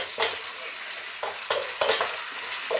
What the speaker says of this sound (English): let's just throw this around in the pan again for about another 2 minutes max